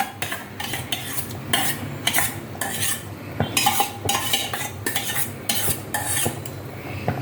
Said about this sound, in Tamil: வெந்ததுக்கப்புறம் அதை நல்லா கரண்டியை வச்சு நல்லா மசிச்சுட்டேன்